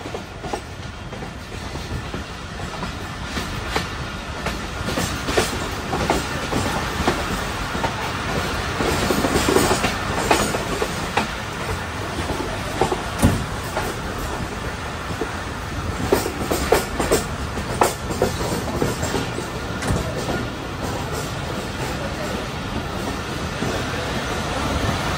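The Subak Kharam railcar travels the Rawalpindi to Jhelum line in Punjab, producing sustained wheel rumble and repeated clacking over rail joints, with occasional faint wheel squeal and bursts of louder clatter, and no voices.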